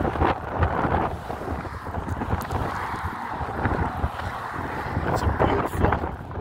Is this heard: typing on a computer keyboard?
no